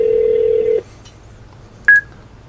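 Steady ringback tone of a phone line called from a Samsung Gear S3 smartwatch to a remote station, one long tone followed after a pause by a short higher beep, alone with no talk.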